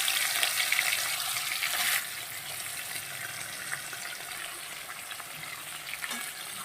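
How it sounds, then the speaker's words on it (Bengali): Prawns sizzle loudly in a hot pan for bottle gourd curry, a steady dense hiss that drops slightly after the first couple of seconds and carries on without any voices. "চিংড়ি মাছটা একটু সুন্দর করে ভেজে দিয়ে দেব লাউটা তো চিংড়ি মাছটা ভালো করে ভাজতে থাকি"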